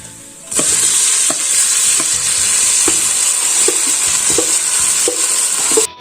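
Cooked chicken with onions frying steadily in a pan over a high flame for Kerala chicken ularthiyathu, a loud continuous sizzle broken by regular scraping stir strokes.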